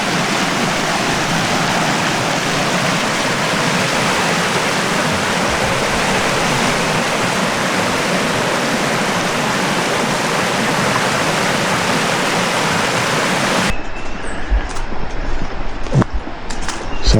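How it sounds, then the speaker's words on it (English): Small waterfall with a two-foot drop on Bayou Kisatchie in a Louisiana forest gives a loud, steady rushing roar that cuts off abruptly near the end, leaving faint handling noise. "This is the waterfalls of Louisiana."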